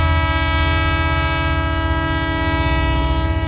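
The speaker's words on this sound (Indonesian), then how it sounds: "Akhirnya kereta itu pun jalan." A sustained, steady train horn blares over the low rumble of a train, loud and close, holding one tone without a break.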